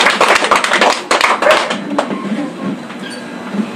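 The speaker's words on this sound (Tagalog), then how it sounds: "Palakpakan natin ang malakas ang Panginoon." Applause from a congregation at an evening healing service, a dense burst of many hands clapping that holds strong for about two seconds and then thins into scattered claps under room noise.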